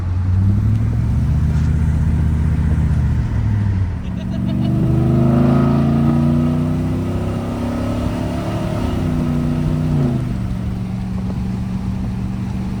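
A 8.1-liter big block engine with a repaired exhaust drones loudly nearby, dropping off and then revving up again in a long rising sweep before settling into a lower steady rumble.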